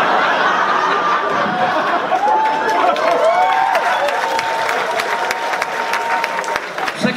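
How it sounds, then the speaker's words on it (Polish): An audience at a stand-up comedy show applauds loudly and continuously, a dense wash of clapping with scattered laughter and cheering mixed in. "Przekażę jej te brawa."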